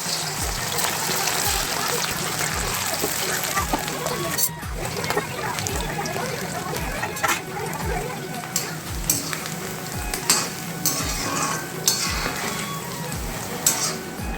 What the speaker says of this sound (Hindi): तेल गरम हो गए संगवारी हो और ओमा में यहाँ पहली आलू ला तल देता हूँ।